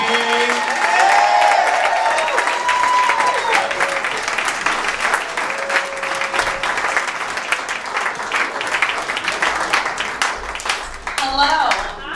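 Audience applause fills a small benefit concert for Bernie Sanders at the Mercury Cafe, steady dense clapping with scattered cheers sustained throughout, close and loud, swelling again near the end.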